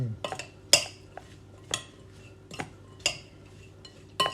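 Metal utensil clinks and scrapes against a pot in irregular taps, like food being stirred, with a faint background hum.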